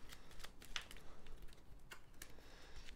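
Cards from the A Song of Ice and Fire tabletop game being shuffled by hand on a table, quick soft papery riffles and taps in short irregular bursts, quiet and close.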